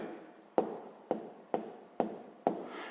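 Pen strokes on paper while a math calculation is written out, five distinct scratchy strokes in an even rhythm, each with a sharp start trailing into a soft rub, close and clear with no talking.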